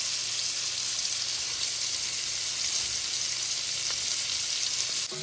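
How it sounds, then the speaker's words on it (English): Diced yellow onion frying in bacon drippings in a skillet, a steady close hiss and crackle of sizzling fat that runs unbroken throughout. "to my bacon drippings, I'm adding my onion first, and I'm going to cook this until they're translucent"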